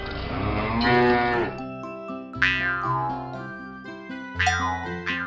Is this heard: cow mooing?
yes